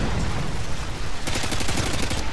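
Shotgun blasts in Modern Warfare 2 multiplayer, a burst of rapid, loud gunfire layered over continuous game noise, with the densest volley in the second half of the short clip.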